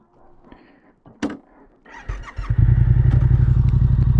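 A Yamaha R7 sport motorcycle starts up and revs on a UK road, with faint handling noises and a brief squeal before the engine settles into a loud, steady close-up idle drone.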